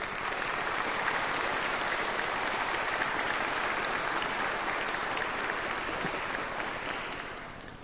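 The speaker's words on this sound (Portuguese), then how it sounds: "Uma salva de palmas, por gentileza." Steady applause from a large crowd at a formal legislative session fills the whole stretch, dense and even, tapering slightly at the very end.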